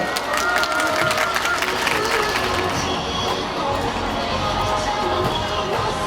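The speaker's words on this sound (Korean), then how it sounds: "박수 부탁드리겠습니다" Crowd at a Daegu political rally applauds and cheers steadily as a Catholic priest is invited to the stage, a dense, continuous wash of clapping with some voices mixed in, fairly close.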